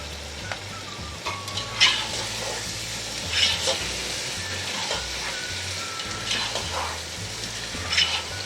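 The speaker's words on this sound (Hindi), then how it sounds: "इसको 2 मिनट भूनेंगे हम।" Rice seasoned with chicken powder and salt is fried and stirred in a pot for white chicken pulao, giving a soft continuous sizzle with scraping spoon strokes at intervals, fairly quiet and without talk.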